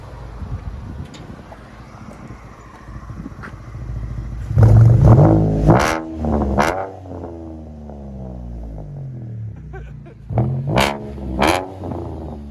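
Chevy Camaro 3.6L V6 with an aftermarket exhaust, heard outside: a steady low idle burbling, then two sharp throttle blips that rise and fall, a pause back to idle, and two more quick revs near the end, loud and close.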